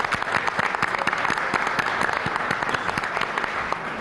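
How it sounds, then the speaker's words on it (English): Morning audience at a panel discussion on the All-American Girls Professional Baseball League applauds mothers in the crowd, brisk close-sounding claps with distinct individual hand strikes over a steady bed of applause. "Let's give them a nice round of applause."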